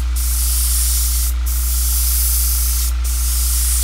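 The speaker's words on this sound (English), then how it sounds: "Airbrushing is all about layers." An airbrush sprays paint in a steady, close, continuous hiss, briefly broken by two short pauses, with no voices.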